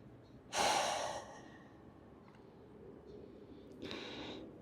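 A deep breath drawn in and released during a vinyasa yoga flow: one strong, airy exhale-like burst near the start, a quieter stretch, then a second softer breath near the end, close and without talk.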